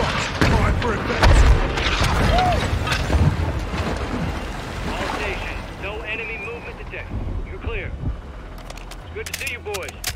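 Explosions from an air strike on a bridge in Call of Duty: Modern Warfare II roll out as heavy booms and rumbling blasts, loud at first and then fading into debris and crackling, with radio chatter and voices over the battle noise.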